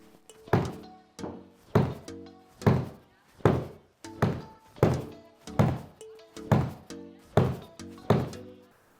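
A golf wedge striking PXG golf balls, ten crisp, solid impacts in a steady rhythm about once per second, close and clean with no talk.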